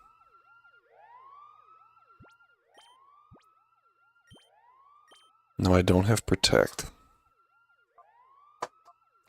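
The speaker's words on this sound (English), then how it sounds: "Turning that alarm on." A rising and falling electronic alarm siren from the Pokemon Colosseum video game repeats in slow whooping cycles. A sudden loud burst of game noise interrupts it, and a voice speaks briefly.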